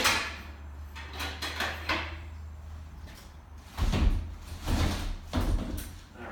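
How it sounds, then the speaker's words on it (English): A wheeled sliding door in a rental house loft is pushed along its track, giving rolling rumbles and a few heavy thumps as it moves and stops, close and fairly loud, with no talk. "Not uncommon for these sliding doors. There's wheels on them"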